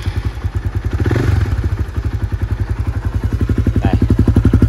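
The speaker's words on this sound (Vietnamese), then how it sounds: "Thì mình sẽ cho anh em nghe thử tiếng máy ha." A Honda Winner motorcycle with an upgraded 165cc engine idles and revs close up, with a loud, rapid, steady exhaust thump that swells into a brief rev before settling back into a quick, even beat.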